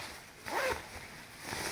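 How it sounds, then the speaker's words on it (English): A zipper on a pair of thin athletic shorts is pulled once in a short, quick rasp close to the microphone, with quiet room tone around it. "They do have a zipper back here."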